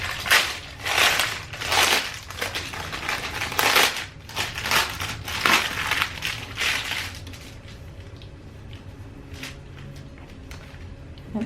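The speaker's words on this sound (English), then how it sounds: "Unwrap the Fillo Pastry." Crinkly plastic packaging of filo pastry being unwrapped for baklava, loud rustling and crackling bursts for about seven seconds, then quieter with faint scattered rustles.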